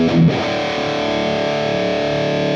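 Heavily distorted electric rhythm guitar runs through software speaker emulation, opening with a quick chord hit and then a sustained ringing, fuzzy chord that holds steady, loud and dry with no voices.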